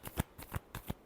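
Tarot cards being shuffled in a few quick riffled bursts, roughly one every third of a second, close and fairly quiet with no talking.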